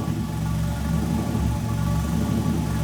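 A Nissan 240SX engine idling at operating temperature with a slight misfire, a steady low mechanical hum and rumble close by, even in level with no obvious stutter.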